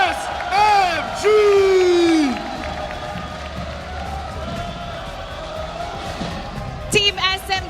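A large esports arena crowd at the M5 World Championship cheers and whoops for Team SMG, sustained roaring noise under loud amplified voices, with sharper shouts near the end.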